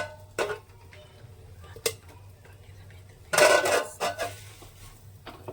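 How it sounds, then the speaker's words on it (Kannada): A plate set over a pan of frying ash gourd for chutney: sharp metallic clinks and clatters, with a louder rattling scrape midway, against a quiet background hum. "ಇವಾಗ ಪ್ಲೇಟ್ನ ಮುಚ್ತಾ ಇದ್ದಾರೆ"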